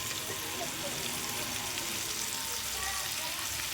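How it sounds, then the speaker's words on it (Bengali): Potatoes frying with turmeric and salt produce a dense, even sizzle close by that runs steadily for a few seconds. "এবার আলুগুলো দিয়ে ভালো করে ভেজে নেব।"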